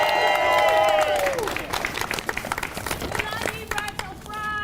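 Rowdy crowd at a campaign rally, dense clapping and cheering that swells loud at first then thins into scattered claps, with whistle-like tones and voices over the top.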